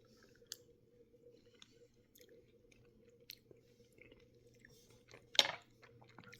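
Soft pawpaw fruit pulp, mushy like banana, is chewed quietly up close: faint, soft mouth sounds throughout, with one brief, louder wet crunch near the end.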